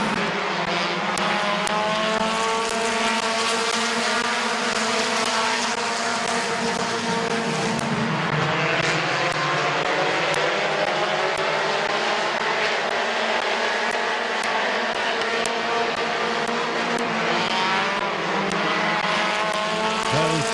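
Race cars roar around a paved short-track speedway at Midvale, a dense, steady engine drone rising and falling as the pack passes, loud and continuous with no talk over it.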